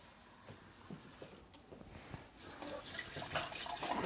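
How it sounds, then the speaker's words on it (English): Tap water runs into a cup, starting as a faint, uneven trickle and growing louder and fuller as the cup fills, with no talking. "We're going to go ahead and just get this full of water."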